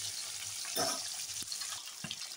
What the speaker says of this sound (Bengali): এখন ভাজা হোক।